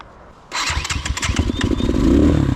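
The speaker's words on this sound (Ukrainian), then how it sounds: "Непогано він заводиться після падіння" A Rottor Bronx 300 motorcycle that had just been dropped in a crash cranks and fires up after half a second of quiet, then settles into a loud, uneven idle nearby.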